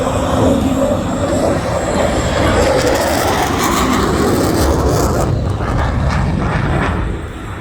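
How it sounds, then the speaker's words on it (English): An F/A-18 Classic Hornet fighter jet flies a high-speed pass at an air display, giving a loud, sustained broadband engine roar that holds steady for most of the stretch and then drops off near the end. "At this point, 400 knots, the jet's at its best energy addition rate."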